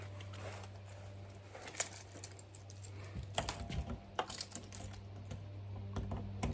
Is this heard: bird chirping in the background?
no